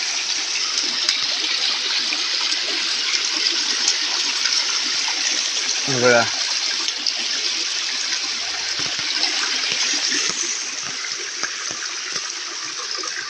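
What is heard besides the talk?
rainwater flowing on road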